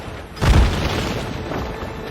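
A ship's cannon fires during a naval chase in Assassin's Creed Rogue, a single deep boom close by with a rumbling tail.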